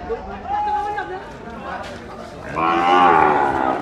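Cattle mooing at Gabtoli cattle market in Bangladesh, a long loud low moo near the end, preceded by another moo amid crowd chatter and voices.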